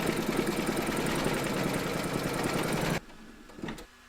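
An embroidery machine stitches monogram letters in gold thread on a coronation coaster, a fast steady mechanical whir and clatter that stops abruptly near the end, leaving a faint brief knock.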